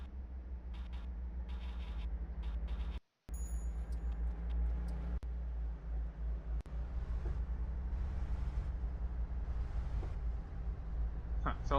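A bus engine in the City Car Driving video game drones steadily with a low, torquey rumble, briefly cutting out once and then resuming under a voice talking throughout.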